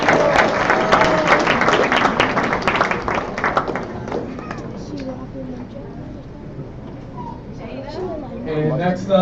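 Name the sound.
audience applause at graduation ceremony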